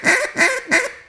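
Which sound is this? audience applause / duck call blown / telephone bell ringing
duck call blown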